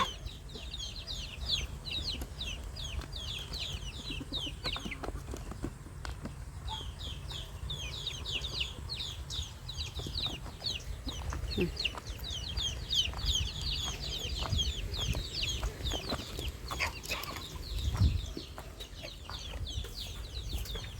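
Chickens cluck steadily in short, repeated bursts, with a busy farmyard hum and occasional knocks underneath; no one speaks.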